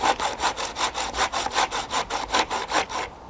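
A handsaw cuts through wood at a woodland bushcraft camp in winter: about a dozen even back-and-forth rasping strokes, close and steady, with no talking.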